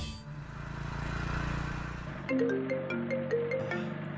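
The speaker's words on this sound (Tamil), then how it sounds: "பாண்டி தான் ஃபோன் பண்றான" A mobile phone rings with a melodic tone of repeating high notes for an incoming call, entering halfway through after soft background music, in a Tamil TV serial scene.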